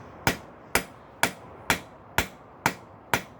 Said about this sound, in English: I'm changing to a little Nordic Forge rounding hammer.